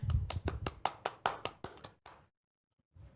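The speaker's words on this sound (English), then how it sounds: "Another round of applause." Close, loud hand clapping on a podcast: around ten sharp claps in a quick, slightly uneven rhythm, stopping abruptly into near silence before a faint noise at the end.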